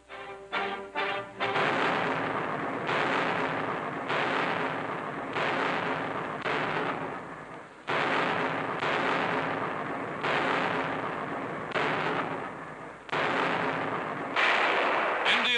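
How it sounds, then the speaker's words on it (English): British artillery firing in a 1943 WWII newsreel: a series of heavy booming blasts, each rumbling on before the next, loud and repeated roughly every couple of seconds with no talk. "British artillery gives the Nazis no rest"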